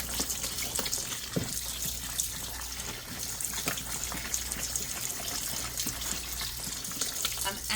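Tie-dyed fabric is agitated in water, making a continuous sloshing and splashing with occasional louder swishes, close by and without talk.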